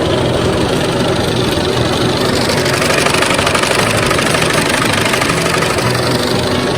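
A 1956 Farmall 200 tractor engine runs steadily while driving through a hayfield, a loud, close, continuous rumbling drone with rough knocking texture and no talk.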